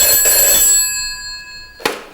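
An old GPO dial telephone's mechanical bell rings loudly and close, a bright metallic clang that decays, then strikes again briefly near the end.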